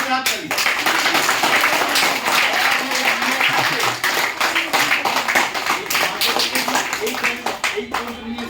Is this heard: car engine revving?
no